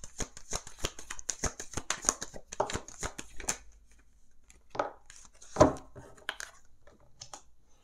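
Tarot cards shuffled in a rapid run of crisp riffling snaps, then slower single draws and slaps as cards are laid down, close and fairly quiet.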